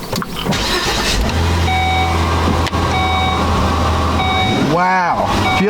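A Volvo XC70 T6 runs with its newly replaced AC compressor engaged, giving a loud steady idle hum with faint tonal whine, briefly overlaid by a warbling electronic chirp near the end.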